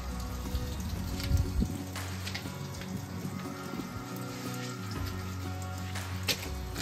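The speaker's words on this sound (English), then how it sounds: "squeeze the shampoo down onto the bike, and just slowly work that in" Wet sponge and shampoo lather worked slowly over a motorcycle's paintwork, a close, soft continuous sloshing and squishing with faint dripping throughout, no talking.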